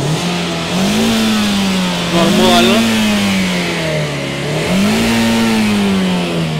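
A car engine revs hard up close in two rising, pulling sweeps with a steady idle between them, while people talk over it.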